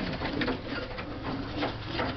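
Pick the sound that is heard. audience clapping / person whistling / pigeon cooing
pigeon cooing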